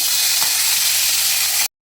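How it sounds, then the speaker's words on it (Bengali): A turmeric-coated katla fish head fries in hot oil with a loud, steady, close sizzle and crackle that cuts off abruptly near the end. "এবার আমি মাছের মাথাটা ভাজা বসিয়ে দিয়েছি"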